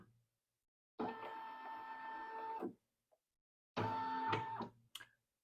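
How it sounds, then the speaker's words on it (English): An embroidery machine traces a design outline on a repositionable hoop, its motors whirring in two separate bursts with quiet gaps between them, faint and close. "I want to do a trace. So I just want to see where it's going to embroider."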